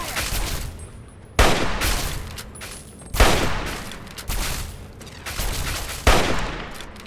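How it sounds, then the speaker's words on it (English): Gunfire in a Fallout 3 battle: loud, close bursts of rapid shots that start abruptly about every second or two, each trailing into a rumbling decay, repeating across the whole stretch. "Why is he shooting at me specifically?"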